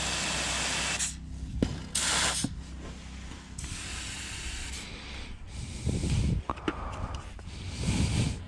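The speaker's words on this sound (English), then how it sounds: "So I have some garage door lube. I'll spray that on there" Bursts of hissing aerosol spray of garage door lubricant onto a Smart Fortwo rear axle hub, a few short blasts and longer sprays, close by, with clanking metal and handling noises in between.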